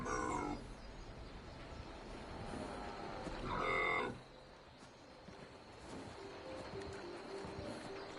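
Two deep moos from a Brahmin cow in Fallout 76, one short near the start and a louder, rougher bellow a few seconds later, over quiet game background noise.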